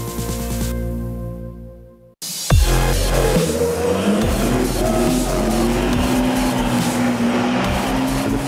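Heavy racing trucks at speed on the Le Mans circuit, a loud continuous engine roar with a sharp break and a sweep as one passes close, then sustained revving and tyre noise from five-tonne trucks sliding through corners.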